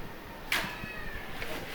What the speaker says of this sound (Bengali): বিড়াল খুব বেশি কান্না করতেছে